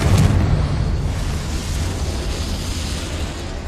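A Confringo fire spell explodes in the Hogwarts Legacy video game, a loud, sustained deep rumbling blast that opens with a heavy boom and slowly trails off as a roaring wash.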